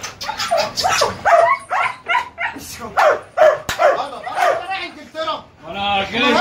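Several dogs bark and yip in short repeated bursts close by, mixed with shouting voices of people trying to quiet them and handle the dogs.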